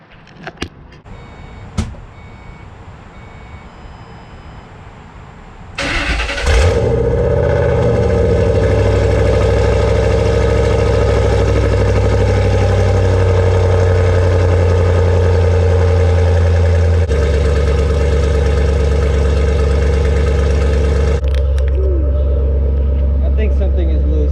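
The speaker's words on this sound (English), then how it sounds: "This is gonna be the first morning cold start." A Ford Mustang GT 3V V8 with catless mid pipes cold-starts, cranking and catching after a few faint clicks, then settles into a loud, steady, deep idle with a burbling low rumble that continues.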